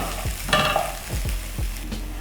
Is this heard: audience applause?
no